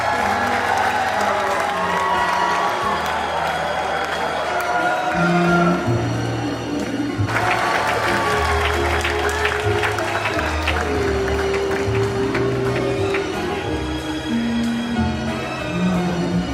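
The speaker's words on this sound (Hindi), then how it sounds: "जोरदार तालियां हो जाए।" An alumni meet audience at JNV Laduna, Mandsaur claps in a dense, sustained roar, with scattered cheers and shouts and some voices mixed in.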